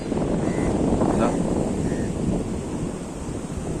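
Sea waves crash on Mullaitivu beach in a loud, continuous roar with heavy wind buffeting the microphone. A surge near the start fades slowly.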